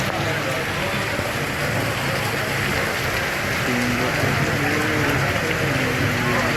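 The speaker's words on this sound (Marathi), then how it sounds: "पाऊस जोरात पडतो आहे" Dense, continuous hiss of heavy monsoon rain pouring steadily during a Diva–Roha train trip, with a faint voice murmuring underneath partway through.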